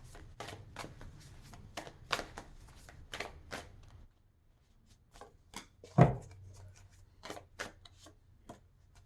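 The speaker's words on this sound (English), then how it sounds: "So let's pull a couple cards for the Six of Pentacles." Tarot cards being shuffled by hand, a close run of quick riffling bursts, a short pause, then a soft thump and more rapid shuffling strokes, with no talking.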